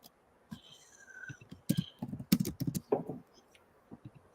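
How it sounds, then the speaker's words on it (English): Fast, irregular typing on a computer keyboard, with close, light clicks in short bursts and brief pauses between them. "typing in the notes here."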